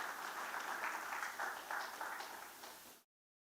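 An audience at the 2024 KAZA heads of state summit applauds the co-master of ceremonies, a faint, distant, steady wash of clapping that cuts off abruptly.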